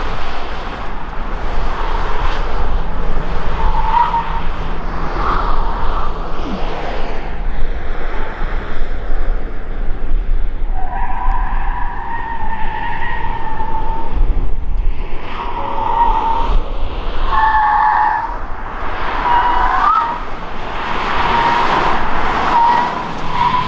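Hyundai N car driven hard in sport mode, giving a continuous road roar with tonal engine and tire whine that rises and falls through the run, fairly loud and with no talk.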